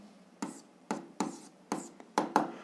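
Pen writing out an algebra solution on paper, a series of about six short, distinct scratching strokes with brief pauses between them, close and quiet.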